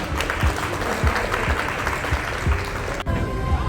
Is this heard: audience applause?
yes